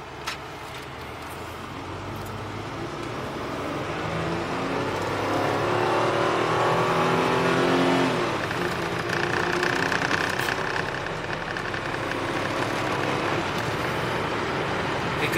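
A small work van's engine builds and revs while driving, a steady rising drone with road noise that swells midway then eases, heard from inside the cabin with no talking.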